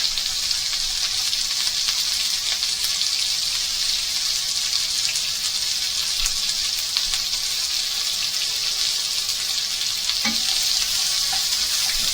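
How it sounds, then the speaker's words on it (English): Onion frying in a pan for a rabbit and chorizo one-pan dish, a steady bright sizzle holding unbroken throughout, close and fairly loud with no talking. "we're going to cook the onion for sort of 8 to 10 minutes, just until it's starting to go brown"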